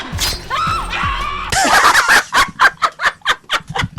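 Glass shatters loudly in a Catwoman film scene, a burst of crashing shards followed by a rapid series of tinkling impacts, mixed with a woman's scream and vocal sounds.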